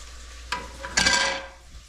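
Chopped onions dropped into a hot pot with carrots and celery for a veal stew, a short clatter followed by a burst of sizzling that fades over a second, close up, no talking.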